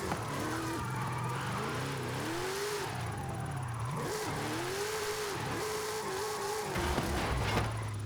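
A front-wheel-drive car in the racing game Forza Horizon 5 revs and shifts up and down under steady engine drone, with rising and falling pitch as it accelerates, and tires squeal near the end.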